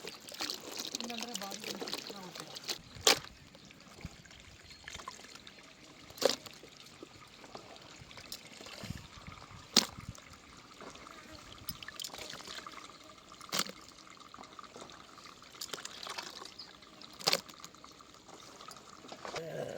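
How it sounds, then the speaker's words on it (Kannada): Hot water pours and trickles steadily while tripe is scrubbed and rinsed, with occasional sharper splashes and clatters standing out throughout. "ನಾನು ಬಿಸಿನೀರು ಹಾಕ್ಕೊಂಡು ಈ ರೀತಿ ಇಚ್ಕಿ ತೊಳಿತಾ ಇದ್ದೀನಿ."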